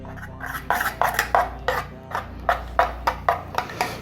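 A spoon clinks and scrapes against a pot while stock-based sauce is stirred, about a dozen rhythmic metallic knocks spaced roughly every third of a second, close and clear with no talking.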